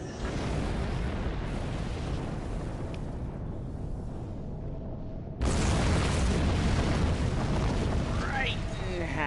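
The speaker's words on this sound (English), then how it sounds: "I'll let y'all watch the explosion though." Explosion in the Star Trek Online video game, a loud broadband blast that bursts in partway through over a continuous game soundscape, with a rising sweep and sustained rumble afterward.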